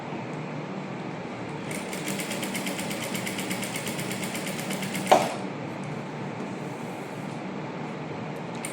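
Sewing machine stitching a lining onto silk blouse cloth for a child's half saree, a steady fast whirring run with a brief louder knock midway, close and continuous.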